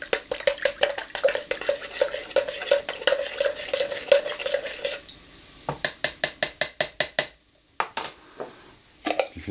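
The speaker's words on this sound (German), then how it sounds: "Dann mischen wir das mal." White cabbage and tofu being stirred and tossed in a frying pan, with a quick run of scraping, clattering utensil strokes, a brief pause, then a second burst of sharp rhythmic stirring knocks against the pan.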